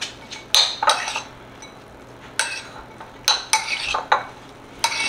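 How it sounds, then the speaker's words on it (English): Stirring takeout food in a dish, a utensil scraping and clinking against the container in short irregular bursts, close and crisp over quiet room tone. "Give it a stir"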